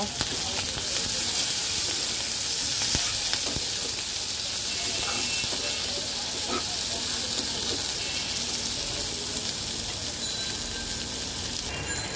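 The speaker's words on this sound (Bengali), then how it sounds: "এর মধ্যে আমি দিয়ে দেব কাঁচা মরিচ, এবার এটাকে একটু ভেজে নেব।" Onion and green chili fry in a pan with a loud, steady sizzle and crackle that fills the whole stretch, with occasional stirring knocks close by.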